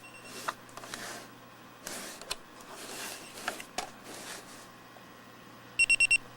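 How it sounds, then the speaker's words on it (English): A Sony Dream Machine ICF-C1 clock radio's alarm sounds four quick, evenly spaced electronic beeps near the end, preceded by soft handling clicks and rustles. "I'm going to go ahead and set one of these alarms and we'll have a listen to it."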